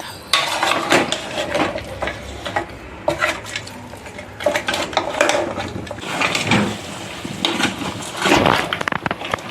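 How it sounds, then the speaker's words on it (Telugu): A spoon scrapes and clanks around a pan as mutton head curry fries in oil, with a soft sizzle beneath irregular metallic stirring knocks, close by. "మధ్య మధ్యలో మూత తీసుకుంటూ ఇలా కలుపుకోవాలి"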